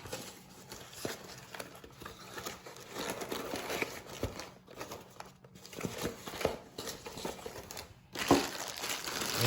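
Plastic packaging bag from a Heritage Barkeep single action revolver box being handled close up: irregular bursts of crinkling and rustling with brief pauses, louder near the end, and no talking.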